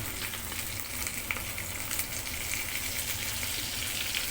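Garlic hisses and crackles in hot butter in a pan, a steady dense sizzle with occasional pops and stirring, no talking over it.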